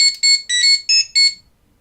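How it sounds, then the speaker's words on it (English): Five bright, high-pitched electronic beeping bursts in quick irregular succession from a Mighty Morphin Power Rangers Legacy toy communicator, its failure sound, then silence. "you get that that sound effect that they use whenever the communicator didn't work"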